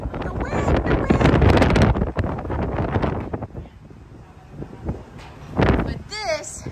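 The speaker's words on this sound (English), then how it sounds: "Very windy." Strong wind buffets the microphone on the sports court deck of the cruise ship Ruby Princess at sea, loud roaring gusts that ease and return, with a person talking over it.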